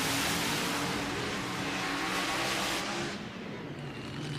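A 1927 Ford mud racer with a 575 Ford engine roars off the line at a mud racing event, its loud, raw engine note filling the air continuously before easing slightly as it pulls away.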